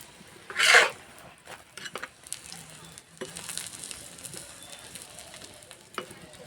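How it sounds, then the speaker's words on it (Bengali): An egg-dipped paratha fries in a pan over a gentle flame with a low, steady sizzle. One loud spitting crackle comes early, followed by scattered soft pops and scrapes, close up, and no one speaks. "আস্তে আস্তে জাল দেব আর ভেজে নেব।"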